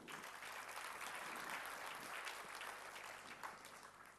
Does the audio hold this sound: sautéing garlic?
no